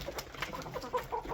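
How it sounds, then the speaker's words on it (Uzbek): Broiler chickens in a pen cluck softly while pecking at their grain, a cluster of short, close, quiet clucks and scratchy pecking sounds. "Bular broilerlar"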